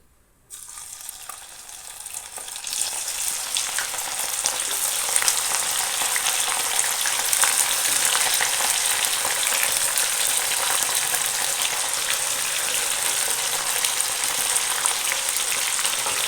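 Gobi (cauliflower) pieces dropped into hot oil and deep-frying on a medium-high flame, a loud, continuous crackling sizzle that starts after a quiet moment and builds, then holds steady with no talk.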